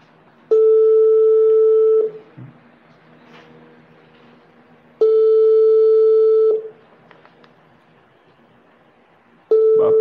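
A phone call rings out unanswered: long, loud, steady electronic tones repeat about every four and a half seconds with quiet gaps between them.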